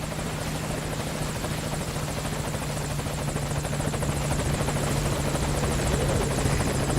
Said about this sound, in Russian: Так, слышу вертолет.